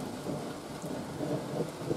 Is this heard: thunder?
yes